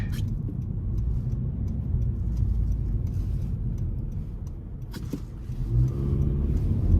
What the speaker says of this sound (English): really just like the exhaust tone of the Civic.